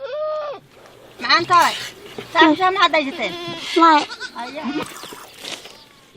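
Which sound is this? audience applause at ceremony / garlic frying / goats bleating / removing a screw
goats bleating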